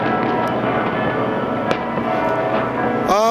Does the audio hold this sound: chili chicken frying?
no